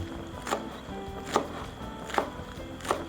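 A knife chops green onions and cilantro on a board while Thai cooked tilapia larb is being made: four sharp, evenly spaced chops, fairly close, over a low kitchen hum.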